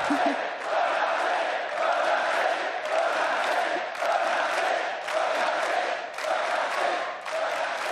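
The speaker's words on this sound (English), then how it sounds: "The cheering will go on and on." A large esports arena crowd at the League of Legends World Championship quarterfinals roars and cheers continuously, loud and sustained with rising swells of shouting.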